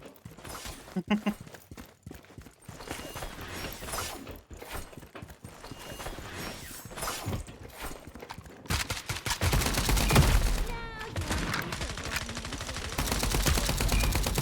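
Gunfire from the FragPunk shooter game: scattered shots early, then dense rapid bursts of automatic fire in the second half, mixed with a player talking over the game.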